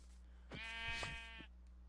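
A single sheep in the game Minecraft bleats once, a wavering nasal cry about a second long, faint against a low steady hum.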